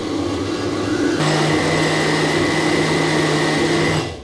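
A blender whirs loudly and steadily as it purees sunflower seed caviar made from soaked sunflower seeds and salt, the motor starting abruptly and running at full speed for a few seconds before stopping.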